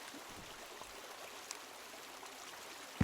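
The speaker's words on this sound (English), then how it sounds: "I can see the waterfall from here." A distant waterfall gives a steady, faint broadband rush of falling water, unbroken throughout with no voices, ending with a brief loud bump.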